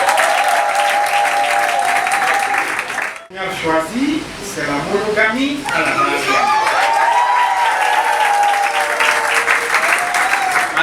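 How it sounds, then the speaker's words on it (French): Applause from guests at a civil wedding ceremony, a dense crowd clapping beneath a loud voice speaking through most of the clip, with a short break near the middle. "applaudissez très très fort pour ça"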